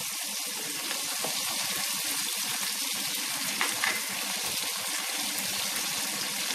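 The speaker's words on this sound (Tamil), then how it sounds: "இப்போ நல்லா எல்லாத்தையும் நல்லா வதக்கிக்கலாம்" Curry leaves, garlic and tomato sautéing in a pan, a continuous close-up sizzle and hiss with faint stirring scrapes, no talk over it.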